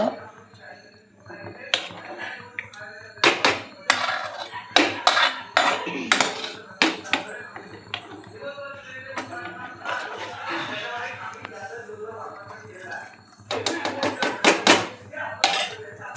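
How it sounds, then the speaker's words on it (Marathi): A knife chops coriander finely on a board in a village kitchen, giving irregular bursts of sharp, close taps that pause and resume, with clattering utensils and a voice talking over it. "आता आमच्या आत्या कोथिंबीर कापून देत आहे"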